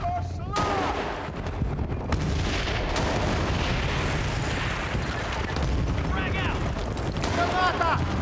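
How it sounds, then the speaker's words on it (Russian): Explosions and heavy gunfire thunder through a Battlefield: Bad Company battle, including a grenade blast amid loud continuous booms and rattling shots. Shouted voices are heard throughout. "Граната пошла!"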